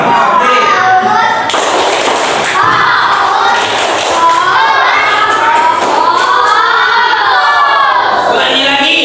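A class of children doing the 'tepuk fokus' clapping routine in a classroom, loud rhythmic group claps with voices chanting along over most of the stretch.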